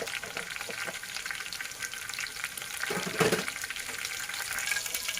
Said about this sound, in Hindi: जीरा लाइट फ्राई हो चुका है।